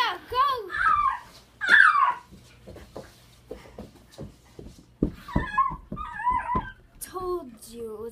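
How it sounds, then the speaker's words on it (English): A dog whimpers and yips in short, high whining bursts, close and fairly loud, mixed with other animal-like squeals and a voice speaking between them. "Told you it was a dog."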